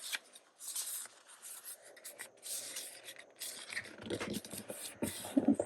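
Paper being folded and creased into a small zine booklet: soft, close rustling and rubbing with crisp scrapes in short bursts, faint and intermittent.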